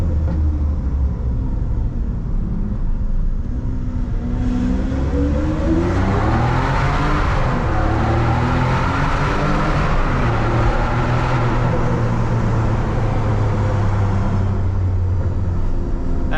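A Ferrari 575M Maranello V12 revs up inside a tunnel, its loud engine note climbing steadily in pitch and echoing for a long stretch, heard from inside the car with no talking.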